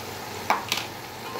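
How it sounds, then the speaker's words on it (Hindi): Spinach drops into a pan of sizzling chicken curry, giving two quick bursts of sizzle and rustle over a soft, steady frying hiss. "अब डाल देते हैं इसमें पालक को"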